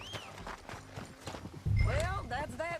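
Horse hooves clip-clop in Red Dead Redemption 2, a steady run of hoofbeats under continuous speech, with a whinny-like call and louder game noise near the end.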